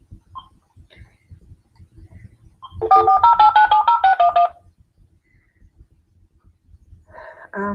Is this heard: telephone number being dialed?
yes